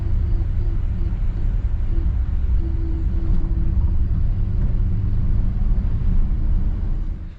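A 1959 Chevrolet Bel Air engine idling steadily after carburetor work, a low, continuous rumbling drone with a faint hum on top, close and unbroken with no talking.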